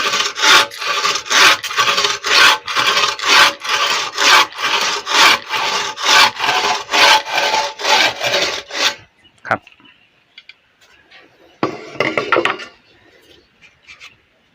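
A hand saw cutting wood in quick, regular back-and-forth strokes for several seconds, then stopping, with a short burst of rasping after a pause.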